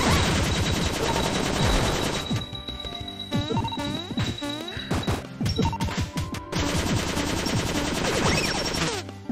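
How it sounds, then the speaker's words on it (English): A machine gun fires repeatedly in the retro platformer Cave Story, loud rattling bursts and crashing hits over busy game music and effects, with a brief lull in the middle before the shooting resumes. "I got a machine gun!"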